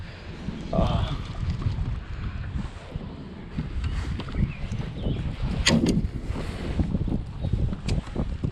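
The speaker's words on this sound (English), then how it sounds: "Wow, the wind is blowing us." Wind gusts across a kayak out on open water, a steady rushing roar with buffeting and light splashes, while people talk over it.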